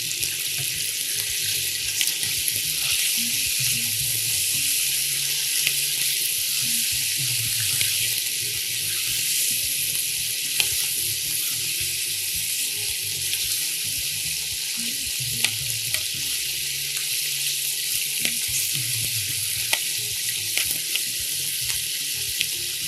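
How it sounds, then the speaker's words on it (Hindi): Ingredients fried (bhuna) in a pan on a Pakistani morning cooking show produce a continuous hiss with scattered crackles and low scraping bumps, steady and fairly loud throughout, with no speech. "इसको अच्छी तरह हमने भूनना है।"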